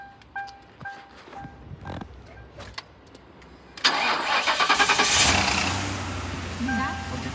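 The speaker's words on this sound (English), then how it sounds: "started right up. The engine sounds good." A 2005 Ford Crown Victoria Police Interceptor with a bad fuel pump, primed with fuel and a jump box, cranks briefly and then catches, its V8 bursting into a loud, steady running roar close by.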